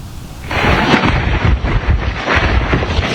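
Heavy rain pours down amid a winter storm with strong wind, a deep thunder rumble rolling in loud and close and continuing throughout.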